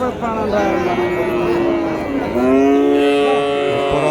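A pair of Jersey calves at the Uthangarai cattle market give loud, drawn-out moos, one long call followed by another close by, with market murmur underneath.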